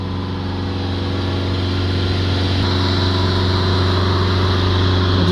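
An Isuzu D-Max diesel pickup engine held at about 3000 RPM during diesel particulate filter regeneration, with a constant droning hum and no change in pitch, close and loud throughout.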